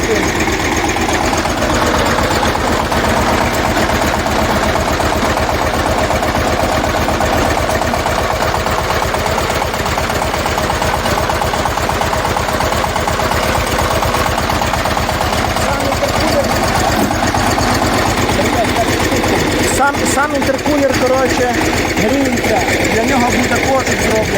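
A Shifeng 160 turbo tractor engine runs steadily at a constant pace for the whole stretch, a loud, close, continuous drone with a rattling vibration and no clear change in speed.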